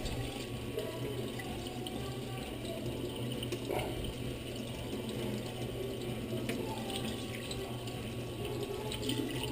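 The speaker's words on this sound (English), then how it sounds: "We're actually going to rinse again." Water runs steadily from a tap over a cutting board being rinsed clean of slime after cleaning a skate, a continuous close hiss and splash with faint clicks and knocks throughout, no voices.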